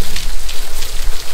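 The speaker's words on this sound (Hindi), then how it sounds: "गाइस कितनी जोरदार बारिश हो रही है एकदम।" Heavy rain falls steadily and loudly in a continuous dense hiss along the road to a double-decker root bridge in North East India, with no voices heard.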